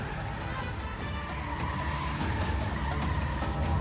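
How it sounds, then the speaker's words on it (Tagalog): An SUV speeds backward into a gas station with its tires skidding. A loud, sustained engine roar mixes with screeching tire noise throughout, close and rising slightly toward the end. "Maya-maya, dahan-dahang umatras ang SUV hanggang sa humarurot pa atras at pumasok sa isang gasolinahan."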